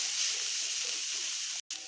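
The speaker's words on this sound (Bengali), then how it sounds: "আমি ঢাকা খুলে আবারও একটু ভালোভাবে একটু ভেজে নিচ্ছি" Brahmi greens fry in an uncovered pan, giving a steady, bright sizzle with a soft hiss that holds evenly, then cuts out for a moment near the end before resuming.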